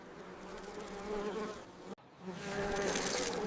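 Flies buzz in a steady, droning swarm around bread spread with sweet jam, a close and continuous whine that cuts off briefly midway and then swells back, with no voices.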